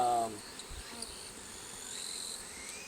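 Honey bees drone and buzz steadily around an opened hive during a summer checkup, a soft, continuous hum with a brief louder sound at the very start.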